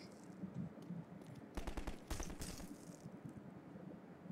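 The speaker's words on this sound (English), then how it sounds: "I hear shooting." Rapid automatic gunfire rattles in a couple of short bursts in the video game Garry's Mod, moderately loud over a busy game background, with no talking.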